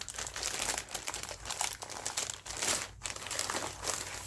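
Paper fused to an item from an estate and Habitat Restore haul is pulled, torn and crumpled by hand, giving continuous close crinkling and crunching with brief pauses.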